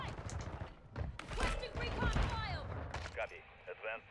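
SMG gunfire from the FTAC Siege in Call of Duty MW2, several sharp close bursts and thumps scattered through the clip, mixed with excited talking and game sounds.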